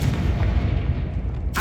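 A Confringo spell in the Hogwarts Legacy video game detonates as a loud, close, booming fire blast that rumbles on, ending in a sharper burst.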